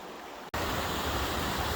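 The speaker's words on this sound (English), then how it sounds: "We're on the side of the falls. This is the lower falls, not as dramatic as the upper ones" Water rushing over the lower falls at Canyon Falls in Baraga County, Michigan on a winter hike, a dense continuous roar that swells loud and close after a brief dip.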